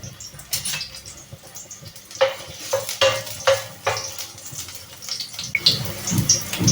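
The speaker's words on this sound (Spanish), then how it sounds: "Vamos a poner los ajos que empiecen a freír." Garlic frying in hot oil as the start of a sofrito for a meat fideuà: crackling sizzle punctuated by sharp stirring knocks and clatters in the pan, close and moderately loud.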